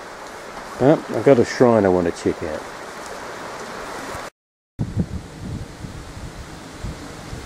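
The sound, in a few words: rain falling during a hike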